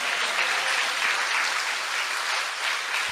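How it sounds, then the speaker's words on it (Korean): Steady, dense applause from a large audience fills a patriotic lecture hall at a church event, continuous clapping at a constant level with no voices above it. "손뼉질 준비해봐"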